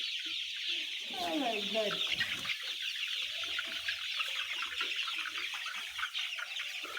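Layer chicks cluck and cheep in a dense, continuous chorus close by, with a person briefly exclaiming over the flock.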